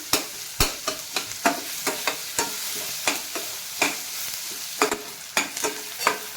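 Tomato cooks in oil with golden-brown fried onion and garlic in a pan for a bitter gourd dish: a steady sizzle under repeated, rhythmic scrapes and taps of a spoon stirring, close and clear.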